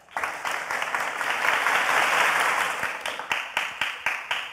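A large audience at a research presentation final applauds steadily, a thick sustained roar of clapping that swells in the middle and then thins into scattered individual claps near the end.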